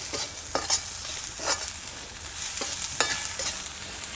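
Masala is sautéed in a pan for a village-style meal, with repeated scraping stirs every second or so over a low, steady frying sizzle, close and without speech.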